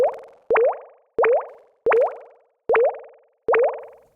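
Synthesized bubble or water-drop plops made in Serum, six evenly spaced pitched blips with a quick upward pitch sweep, each bouncing back and forth in a ping-pong delay and decaying before the next, clean and alone.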